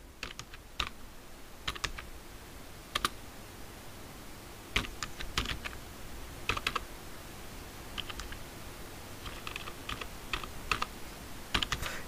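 A postal address typed on a computer keyboard: close, crisp key clicks in short irregular bursts separated by pauses, over a quiet room, with no voices.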